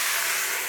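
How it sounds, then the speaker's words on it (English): Water hitting a hot pan of seared carrots, a loud, close, steady sizzling hiss of steam that fills the whole short moment without pause. "So in goes a bit of water."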